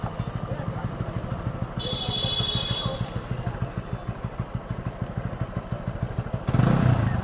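A TVS Apache 200cc motorcycle engine running close by with a steady, rapid idle throb that swells as it revs, with a brief hiss partway through and a louder rumble at the end.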